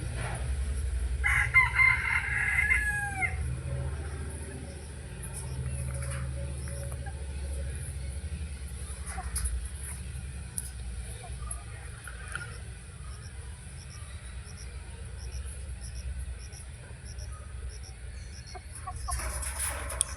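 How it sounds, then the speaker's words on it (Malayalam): At a poultry farm on an agricultural farm in Palode, with native and other chicken breeds, a rooster crows loudly near the start while hens cluck softly, followed by a long stretch of quieter farm background and occasional faint voices. "പാലോട് അഗ്രികൾച്ചർ ഫാമിൻ്റെ കോഴിയുടെ ഒരു പൗൾട്രി ഫാമാണ്"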